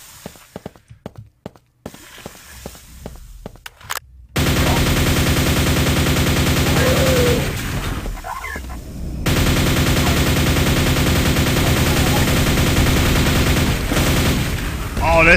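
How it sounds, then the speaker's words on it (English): A rapid, sustained burst of nail gun fire in the video game Quake 2 Ground Zero rattles on for about eleven seconds, loud and dense, after a few quieter sparse sounds at the start. "Oh, this nail gun works."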